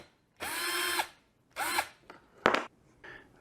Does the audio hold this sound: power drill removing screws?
yes